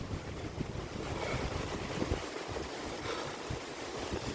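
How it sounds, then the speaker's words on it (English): Strong wind of about 30 to 40 km/h on a Nandi Hills hike buffets the microphone with a constant rushing roar and low gusty rumble, with no voices. "OMG! Extremely windy out here."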